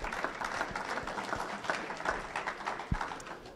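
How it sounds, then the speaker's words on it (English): Applause from an audience at a college athletics winter media day, a moderately distant wash of many hands clapping steadily with scattered sharper claps. "Let's give her a round of applause for everything she does."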